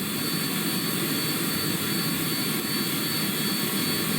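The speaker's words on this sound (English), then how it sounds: "These are all air breathing engines" Air-breathing jet engines of a spaceplane in Kerbal Space Program roar in a steady, unbroken drone with a high whine on top, constant in level throughout.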